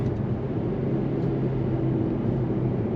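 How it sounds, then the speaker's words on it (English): An Infiniti Q50 Red Sport 400 with a twin-turbo engine rumbles low and steady on the road. The drone is fairly faint and heard from inside the cabin, with no clear talk over it. "Let's get some turbo sounds too while we at it."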